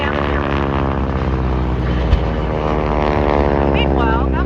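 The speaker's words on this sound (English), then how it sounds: "Right here, center stage, you have our P-36 Hawk, green airplane with a yellow spinner chasing down the airplane." Green P-36 Hawk propeller fighter with a yellow spinner flying at the Dayton air show, a loud, sustained droning engine roar with strong harmonic tones, a brief thump midway and a pitch sweep near the end, with an announcer talking over it.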